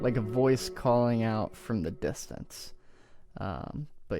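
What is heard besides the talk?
No everyday noises stand out.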